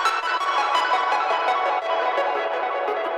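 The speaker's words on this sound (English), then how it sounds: "there's this one where there's a delay and reverb and it's very bright" A bright synth lead patch drenched in delay and reverb plays alone, its pulsing repeated notes smearing into a continuous shimmering wash at steady volume.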